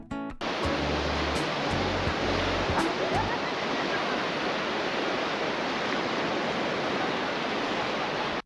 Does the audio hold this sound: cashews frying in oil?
no